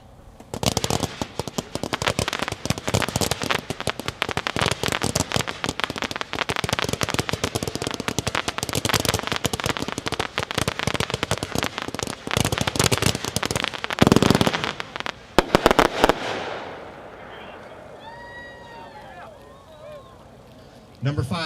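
Tannerite Killing Fields 220-shot firework cake firing a long, loud, rapid barrage of crackling bursts for about fifteen seconds, then stopping abruptly, leaving quieter outdoor sounds with faint voices.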